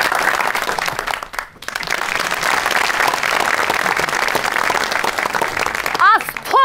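Audience applause at a comedy stage show, a dense steady wash of clapping filling the room for several seconds before a voice cuts in at the end.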